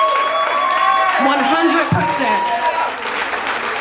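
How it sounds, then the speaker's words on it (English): Audience applause with some cheering fills a youth music program's year-end showcase at a community arts center, a dense wash of clapping running under a speaker's voice throughout. "can we give a round of applause for that?"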